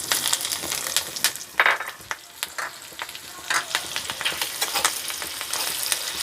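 Green chilli and ginger fry in hot ghee with asafoetida, giving a steady crackling sizzle broken by scraping stirs and a few sharper pops. It is close and fairly loud, and no one speaks.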